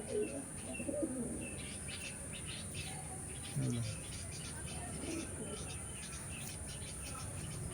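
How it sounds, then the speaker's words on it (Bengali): A young pet pigeon kept indoors gives soft, low coos and a few chirps, faint and intermittent over a quiet room with a constant background hum. "এই পায়রাটি খুবই একটি ভালো পায়রা।"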